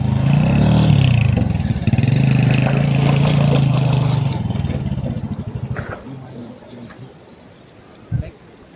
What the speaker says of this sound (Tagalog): Ayun na, yun na yung tunog ng motor nya.